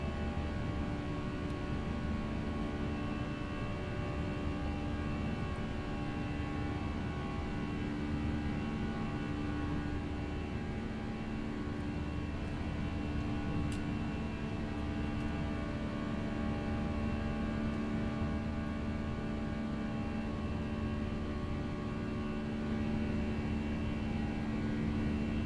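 Airbus A320 airliner in the X-Plane 11 flight simulator spooling up and rolling for takeoff from runway 30 left at San Jose, a steady droning engine roar with a constant whine, unchanging and continuous throughout.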